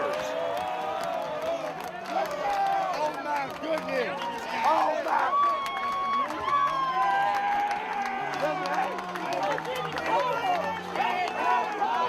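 A baseball stadium crowd roars and cheers after back-to-back home runs, a loud, steady mass of voices and cheering that lasts throughout, with a commentator talking over it.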